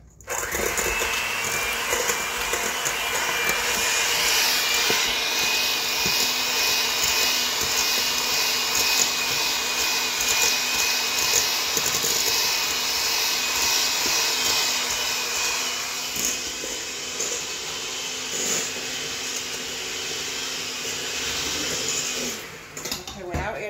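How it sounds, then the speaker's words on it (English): An electric hand mixer creams butter and sugar for a German chocolate cake batter, running as a loud, steady whir near the microphone for the whole stretch and easing slightly toward the end. "we're going to cream the butter and sugar together before we add in the eggs"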